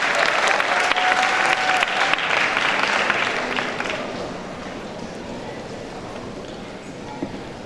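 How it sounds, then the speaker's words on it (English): Loud, sustained applause from the audience at the Miami Beach Senior High Class of 2016 graduation ceremony, dense and continuous at first, then thinning and fading into quieter scattered clapping. "Please join me in applauding them for their accomplishments."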